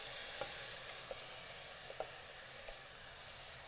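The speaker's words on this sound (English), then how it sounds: "now we're going to add in all our soaked rice" Soaked rice added to hot oil with onions, garlic and cumin, giving a steady, loud sizzle and frying hiss throughout, with a few faint stirring clicks on top.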